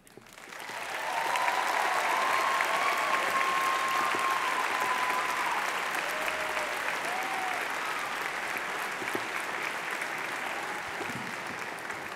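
Sustained applause from a large audience at a fall university commencement ceremony, a dense, steady wash of clapping that swells in quickly and holds for over ten seconds with faint voices mixed in.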